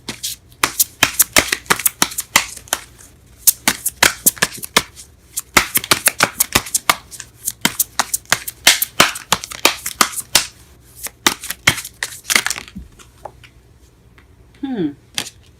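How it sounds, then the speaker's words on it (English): Tarot cards being shuffled and drawn during a love reading, a dense run of quick crisp riffling flicks and slaps close to the mic, continuing for over ten seconds before fading into quieter handling and a brief voice. "I am drawing cards everywhere."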